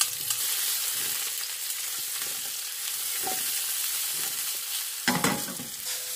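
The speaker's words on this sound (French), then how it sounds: "On fait revenir nos champignons" Mushrooms fry in a pan with a constant hissing sizzle, broken by soft stirring scrapes and a short clatter of the utensil near the end.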